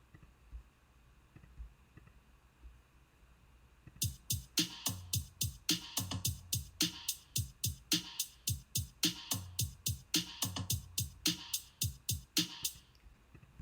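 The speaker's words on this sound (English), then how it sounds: "So take some time and put in your floor tom at different parts." A drum pattern begins after a few seconds of quiet, with steady, punchy backbeat hits and deep floor tom strikes repeating in a driving rock rhythm.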